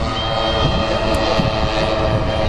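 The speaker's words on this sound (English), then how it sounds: "Beautiful loop there with that big old B-29." Four 100cc motors drive a large radio-controlled B-29 bomber model with a 20-foot wingspan through a loop at an airshow, a steady, loud, droning buzz with a sustained whine on top.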